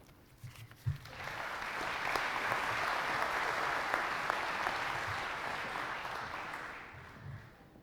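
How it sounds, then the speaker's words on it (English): An audience at an annual member meeting breaks into applause after a chair hands off to the president. Clapping swells after a few scattered early claps, holds as a broad, steady crowd roar, then gradually tapers off. "I don't know whether you're clapping for me or for him."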